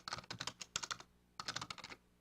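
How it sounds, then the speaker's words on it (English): Fingers type on a computer keyboard nearby, two quick bursts of crisp clicking separated by a brief pause, with no voices. "You're going to type in the name of your book."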